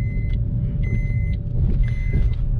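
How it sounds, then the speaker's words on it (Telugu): A 2020 Suzuki Ignis BS6 with a four-cylinder engine, heard from inside while driving: a steady low engine drone with road rumble and a few intermittent high tones from the cabin. "4 సిలిండర్ ఇంజన్ కాబట్టి చాలా పెప్పీగా ఉంది."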